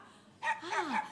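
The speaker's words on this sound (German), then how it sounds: "braves Hundi" A small dog gives a short bark followed by a longer whining yip during an indoor stage comedy performance, close and moderately loud with no talk over it.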